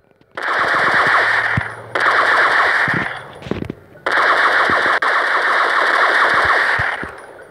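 Sustained bursts of machine gun fire in a video game, loud and close, in three long continuous volleys separated by brief pauses with a few scattered shots between them.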